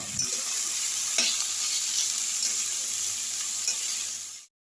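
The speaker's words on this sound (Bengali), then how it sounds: "কড়াইতে সর্ষে শুকনো লঙ্কা ফোড়ন দিয়ে বাকল দিয়ে দিলাম" Mustard seeds and dried red chillies crackle in hot oil in a kadai with plantain peel added, a steady close sizzle with a brief stir that cuts off abruptly at the end.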